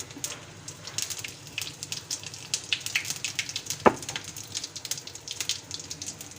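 Whole red chillies and cumin sizzle in hot oil for a tempering, a soft crackling spatter of quick pops and hiss at close range, fairly quiet, with one sharper clack partway through and no talk.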